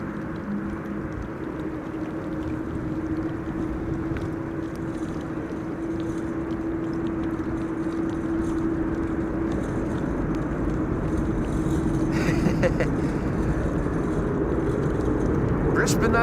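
Passenger jet of Air Canada Flight 808 from Toronto arriving at windy Amsterdam Schiphol Airport, a steady broad engine roar and wind rumble sustained throughout, moderately loud, with a voice talking over it.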